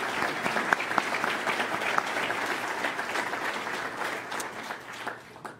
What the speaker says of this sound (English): Please give them all a round of applause for their service.